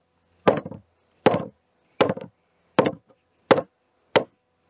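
Six sharp wooden knocks at a steady pace as shrunken Korean traditional hanok floorboards are pushed into place, each a short hard thud with a brief rattle, close by with quiet gaps between.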